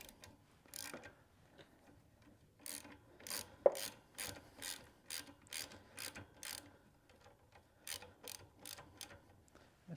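Ratchet tightening a collar on a rolling cultivator, clicking in quick repeated bursts of several strokes with short pauses between, close and fairly quiet.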